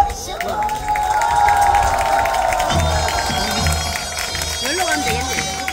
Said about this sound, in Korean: 함께 박수로 맞아보겠습니다